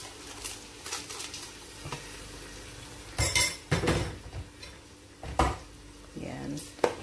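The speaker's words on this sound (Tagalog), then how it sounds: "igisa rin po natin yung rice dito" A utensil scrapes and clinks against a metal pot as rice is sautéed and stirred for arroz caldo, in scattered bursts, with a quiet background hum between the strokes.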